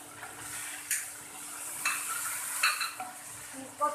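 Cumin, tomatoes and green chillies frying in a pan for chicken karahi, a steady close sizzle broken by several sharp scrapes and clinks of a spoon stirring against the metal.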